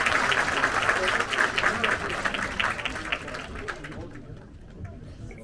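An audience at a film gala premiere applauds, a dense patter of many hands that holds steady and then fades out near the end, with crowd noise and voices mixed underneath.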